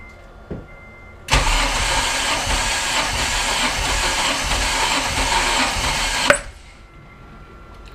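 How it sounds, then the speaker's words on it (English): Big Red's engine cranks over for about five seconds, a loud steady churning whir from the starter that cuts off sharply, with no voices. "someone want to go crank it?"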